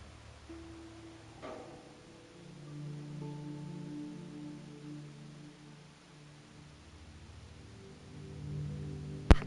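Steady rain falls across a Fallout wasteland game world at night, a soft continuous hiss with low ambient tones and sparse tonal hums beneath, and a brief sharp knock right at the end.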